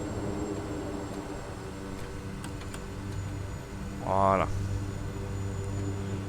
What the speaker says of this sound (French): j'ai mis les reverse tout de suite. J'ai le pied sur les freins et les reverse.